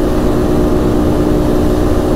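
A 2019 Polaris Sportsman 570 X2 engine drones loud and steady at about 7,300 RPM near top speed, a constant buzzing roar with wind noise and no break in the sound.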